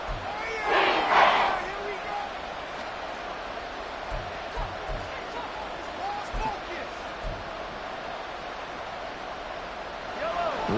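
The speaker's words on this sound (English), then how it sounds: "This crowd doing all they can." A football stadium crowd during a Chiefs game roars in the distance, a swell of cheering early on settling into a steady murmur, with scattered thumps and a commentator talking over it.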